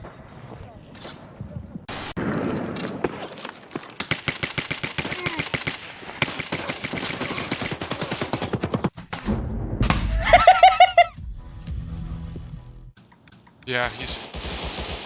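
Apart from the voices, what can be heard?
video game gunfire, AK rifle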